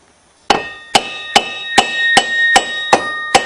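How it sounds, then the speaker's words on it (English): A hammer taps on the axle of a Suzuki Z400 ATV: eight sharp metallic strikes about half a second apart, close and ringing, with no voices. "if I tap it here, I think the whole axle should just pop right out"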